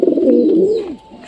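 Pigeons housed at a loft coo in a single close, soft, rolling call lasting about a second.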